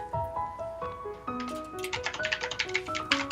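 Rapid clicky keyboard typing in irregular bursts of taps, layered over jaunty melodic music with stepping tones, near and fairly loud.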